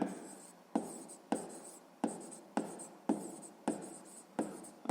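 Pen strokes scratch on paper while a sixth-grade math exercise is worked by hand, close and quiet, in a steady rhythm of about eight short bursts, each starting sharply and then fading.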